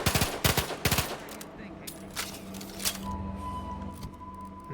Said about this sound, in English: Oh, it's a burst fire.